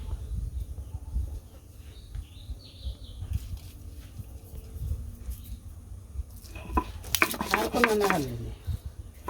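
Dry red chilies being ground into paste with salt by hand, heard as a steady low rubbing and grinding scrape with a few sharper scraping strokes near the end, close and fairly loud.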